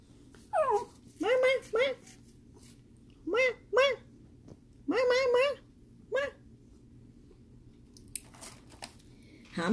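A dog whimpers and whines in a string of high, wavering cries with short pauses between them, close by and fairly loud in a quiet room.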